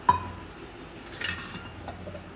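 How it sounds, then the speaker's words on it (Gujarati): A spoonful of ghee going into a pan of oil for moong dal curry, opening with a bright clink of a metal spoon on the pan, then a soft scrape and a faint later tap, close and otherwise quiet. "હવે હું 2 ચમચી ઘી નાખીશ"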